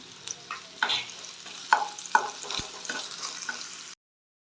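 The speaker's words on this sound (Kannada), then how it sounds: "ಶುಂಠಿ ಬೆಳ್ಳುಳ್ಳಿ ಪೇಸ್ಟ್ ಇಟ್ಕೊಂಡಿದ್ದೀನಿ ಅದನ್ನು ಆ್ಯಡ್ ಮಾಡ್ತಾಯಿದ್ದೀನಿ" Ginger garlic paste fries in a hot pan, a steady low sizzle broken by several sharp scraping strokes of a spatula stirring it, close and clear, with no talk, ending abruptly.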